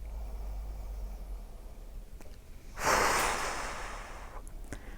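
During a seated chair-yoga exercise, a person exhales through the mouth in one soft, breathy whoosh that rises and then slowly fades against quiet room noise.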